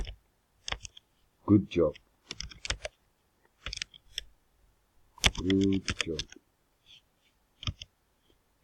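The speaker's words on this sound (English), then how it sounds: "let me change this keyboard because it's making a lot of noise on our video" A noisy computer keyboard clicks in sharp, irregular bursts of close keystrokes, interspersed with short spoken phrases from a nearby voice.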